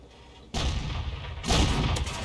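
Two heavy booms of a tank gun firing in World of Tanks, each a sudden loud blast followed by a rumbling tail, spaced about a second apart, close and without talking.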